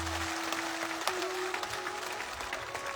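Audience applause at a Hindu religious katha (Nani Bai ka Mayra recitation) in Jalore, a fairly quiet, steady wash of clapping with a faint tonal hum underneath, lasting a few seconds.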